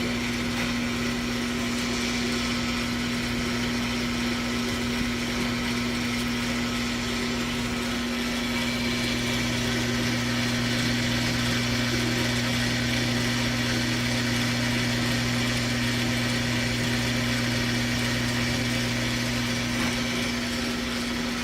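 A Craftsman Atlas 6x18 metal lathe runs steadily with a constant motor hum and drone, joined by a gear whine and a slight shift in pitch partway through, with no talking.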